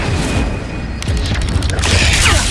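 An Incendio fire spell cast in Hogwarts Legacy gives a loud, close burst of whooshing, crackling flame about a second in, rolling on with booming, rumbling impacts over a steady background of game combat noise.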